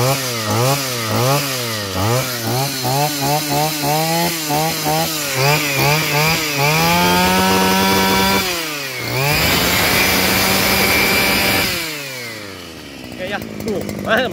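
A Robin NB04 small engine with a 40mm bore revs up and down in repeated loud, chainsaw-like surges close by, then holds a steady high buzz before easing back.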